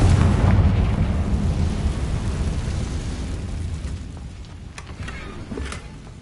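A Confringo spell blasts in Hogwarts Legacy, a booming fiery explosion that rolls and decays over several seconds, followed by a few sharp crackling pops, with no talk.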